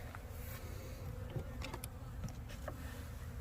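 Bees from the stronger colony buzzing at a Langstroth hive, a continuous low drone with individual bees passing close by now and then, no talk.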